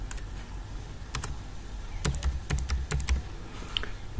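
Password being typed on a computer keyboard to unlock a MetaMask wallet: scattered sharp key clicks, a couple early, then a quicker run of taps in the middle, close and clear over a quiet room hum.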